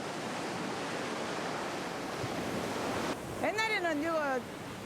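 Large sea waves crash and roar steadily on a rocky shore of Ulleungdo island, a loud continuous surf wash, with a voice briefly speaking over it near the end.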